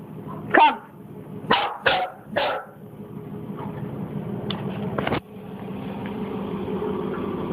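A dog barks four sharp, loud times in quick succession, then gives two fainter, clipped barks after a pause, with a low steady background hum.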